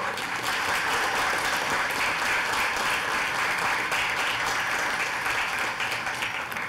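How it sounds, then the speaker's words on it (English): Sustained audience applause for mentors at a university final-presentations event, a loud, continuous crowd clapping that stays even throughout with no talk over it. "let's give a round of applause for our mentors"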